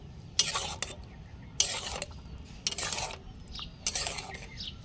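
Boiled tomatoes are stirred in a pot for tomato sauce, four distinct bursts of scraping and sloshing with short pauses between them, close and fairly quiet.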